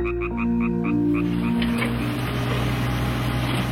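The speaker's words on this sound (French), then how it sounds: "de petites grenouilles chantaient." Small frogs croak in a patch of greenery, a steady chorus of repeated calls with a rhythmic pulsing over a low background hum, fairly close and continuous.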